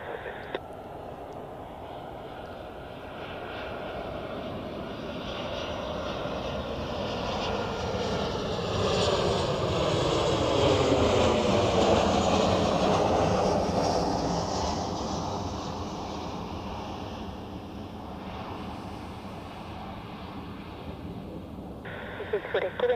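A KLM airliner from Amsterdam at Zurich Airport roars steadily as it passes, swelling to a peak midway and easing off, a continuous broad jet rumble heard from a spotting position outdoors.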